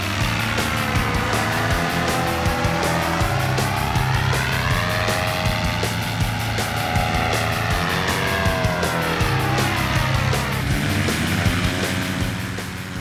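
A Thor 250 paramotor engine runs at full power for takeoff, a loud, continuous buzzing drone that wavers in pitch as it pulls, close and steady throughout.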